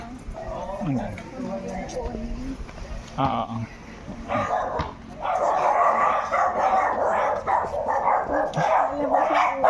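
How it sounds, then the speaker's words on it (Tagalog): A dog barks, yips and whimpers repeatedly nearby, the excited bursts mixing with people talking over it. "Kulit ang aso."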